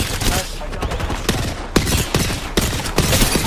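Rapid automatic gunfire from Apex Legends crackles in dense, overlapping bursts, loud and close with a few sharper cracks standing out, while players talk in the background.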